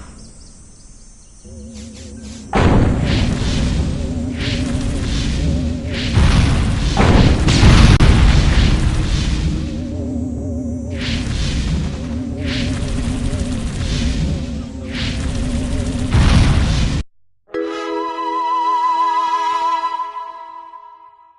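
Destroy All Humans! game combat: loud, continuous booming weapons fire and explosions rumble in dense bursts, with a short break before more blasts and electronic tones.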